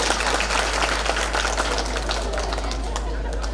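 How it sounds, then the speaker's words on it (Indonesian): Audience applause at a government event in a packed hall, a continuous rattle of clapping mixed with crowd murmur and a low hum. "tepuk tangan dulu."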